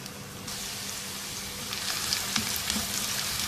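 Finely chopped onions frying in about four tablespoons of oil in a pan: a steady, close crackling sizzle with scattered pops and a faint stirring scrape, no voices.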